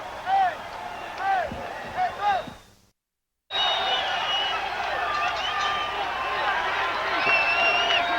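A boxing crowd roars at the Alexis Arguello vs Jorge Palomares fight. Dense, steady cheering fills the air after a brief dropout, with a commentator talking over it.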